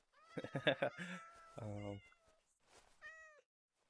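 Cats in modded Minecraft meow several times in a row, loud and close, the cries rising and falling in a quick, irregular run within a quiet game scene.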